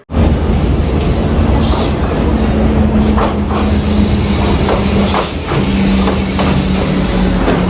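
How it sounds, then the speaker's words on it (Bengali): A train pulling into the station at Ella, Sri Lanka, a loud, close, continuous rumble of rolling wagons with screeching wheel squeals and metallic rattles throughout. "ফাইনালি ট্রেন এসে গেছে"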